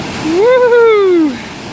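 Rushing waterfalls at Don Det roar steadily in the background beneath a loud, drawn-out voice that rises and falls over it for about a second.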